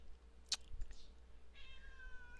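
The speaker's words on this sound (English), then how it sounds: "That was my cat." A pet cat named Tripod meows faintly in a quiet room, one short sharp cry followed by a longer drawn-out meow, heard alone against low background hum.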